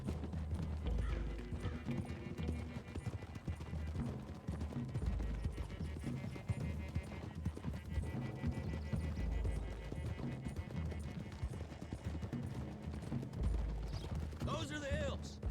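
Horses gallop with steady clip-clop hoofbeats through a Red Dead Redemption 2 game scene, a rider group on a road toward hills, with a voice talking over the continuous pounding and ambient game sounds.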